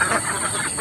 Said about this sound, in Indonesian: Yang nampak dalam tayangan video ini adalah unggas jenis bebek petelur.